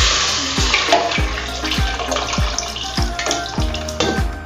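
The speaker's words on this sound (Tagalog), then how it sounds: "Ilalagay na po natin yung sabaw" Beef broth pours steadily into a pot for beef nilaga, a loud, close, continuous liquid rush with rhythmic low sloshing pulses about every half second.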